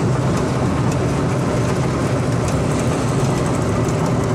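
Converted classic car running on electric power while driving, a steady broadband roar of tires and axles on the road with no engine note, continuous and fairly loud.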